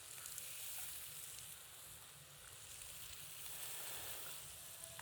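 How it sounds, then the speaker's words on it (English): Steady, quiet sizzling and crackling of steak frying in oil in a hot pan, continuous throughout with no voices. "When you put the steak in the pan, because it's sizzling, it pushes the oil out from underneath the steak."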